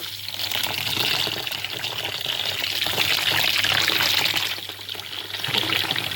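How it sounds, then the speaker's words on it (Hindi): Water gushes steadily as it is poured over food to rinse off vinegar while making rasmalai, a continuous close splashing rush with a faint low hum beneath. "इसके ऊपर हम थोड़ा सा पानी डाल देंगे ताकि सिरका अच्छी तरह से निकल जाए।"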